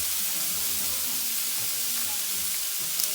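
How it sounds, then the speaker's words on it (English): Steak pieces and unsalted butter sizzle loudly in a frying pan, a dense continuous hiss close by with faint clinks and stirring underneath. "I'm going to go ahead and add the other pieces of steak back into the pan now and add my butter."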